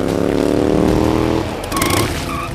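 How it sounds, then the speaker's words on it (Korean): An engine roars close by, then drops in pitch and fades as the vehicle slows, like a motorcycle pulling up. "오토바이를 타고 나타난 로이."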